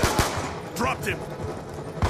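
Gunfire in the video game Black Ops 2: a few sharp, loud shots early in the clip and one more near the end, with in-game announcer-style voice lines and busy combat noise in between.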